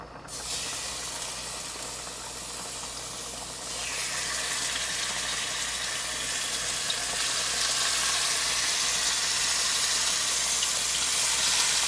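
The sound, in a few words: pork chop sizzling in a pan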